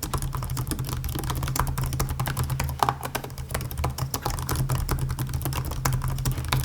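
Rapid, steady clicking of Acer Swift X SFX16 laptop keys being typed on close up, continuous and even, over a low background hum.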